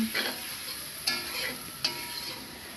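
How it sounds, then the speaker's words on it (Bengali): Shrimp frying with masala in a pan, a soft steady sizzle with three sharp scraping stirs spaced about a second apart. "এভাবে আমি কষতে থাকবো আর ধীরে ধীরে চিংড়ি মাছটাকে ভাজা হতে থাকবে মশলার সাথে"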